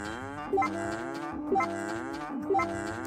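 Cows moo in the farming video game Story of Seasons: A Wonderful Life, three long, close moos evenly spaced about a second apart, with no talking.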